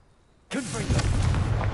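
A Confringo fire spell in Hogwarts Legacy goes off with a sudden burst after a quiet moment, followed by a sustained roaring, crackling rumble.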